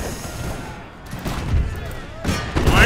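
Musket volleys crackle and boom through a dense battle din in the Imperial Splendour game's Russian campaign, with bursts of gunfire swelling around 1.5 and 2.3 seconds over constant low rumble; no one speaks.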